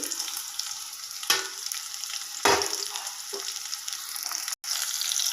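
Bitter gourd pieces fry in hot oil with a steady, close, crackling sizzle, broken by a few louder spatters and a brief stir.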